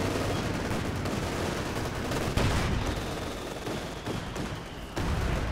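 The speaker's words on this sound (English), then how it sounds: "You got the heavy mortar continuing to bombard away." Heavy mortar bombardment in the video game Company of Heroes 2, with continuous rumbling battle fire, scattered gunshots and thudding impacts filling the whole stretch at a steady loud level.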